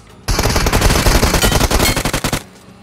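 Automatic gunfire in the mobile game PUBG Mobile: one loud, dense burst of rapid shots that lasts about two seconds, then cuts off abruptly, with no talk over it.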